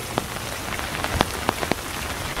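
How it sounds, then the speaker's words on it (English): Steady rain falls during a thunderstorm hike at Iroquois Park, a dense hiss with scattered sharper drip impacts close by, no voices. "I like hiking in the rain and hearing the distant thunder."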